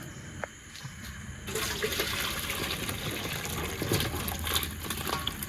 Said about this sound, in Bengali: এবারে আমি এই গামলাতে ঢেলে দেবো।